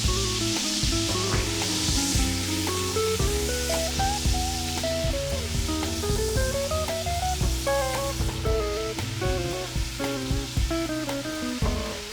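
Something melting in a pan with cardamom seeds dropped in gives off a steady, gentle sizzle and frying crackle throughout, running under continuous background music.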